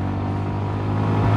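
A Yamaha XSR 125 motorcycle engine pulls in fourth gear, a steady buzzing drone with harmonic rumble rising gradually as revs climb, heard close and continuous without talk.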